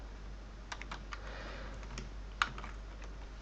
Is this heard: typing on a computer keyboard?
yes